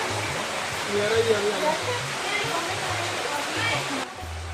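Flowing water at Dhansar near Katra, a constant rushing roar of the stream close by, with people talking over it.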